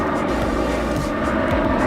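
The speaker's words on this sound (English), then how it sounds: "Plane coming in right there" An airplane comes in to land at LaGuardia Airport, making a loud, steady jet roar mixed with outdoor wind noise throughout, with no clear talking.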